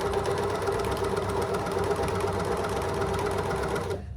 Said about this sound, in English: Okay, so first thing I'm going to serge off the selvage.